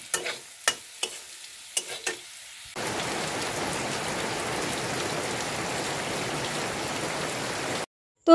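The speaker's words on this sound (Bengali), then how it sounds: "বাইরে তো দেখলেন ভীষণ বৃষ্টি হচ্ছে" Heavy rain pours outside a home, a dense steady hiss that starts abruptly after a few sharp knocks and clatters, then holds evenly for about five seconds before cutting off.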